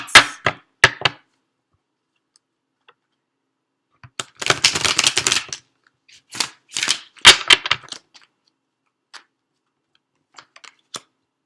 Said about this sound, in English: let me do one thorough flip of the cards.